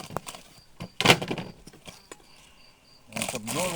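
Honeybees buzzing around hive frames during a queen check on a colony, a faint steady hum broken by thumps and knocks, with someone talking briefly near the end.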